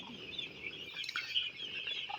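Eight-day-old broiler chicks cluck and peep softly in a poultry shed, a faint, continuous chatter of small high calls at close range.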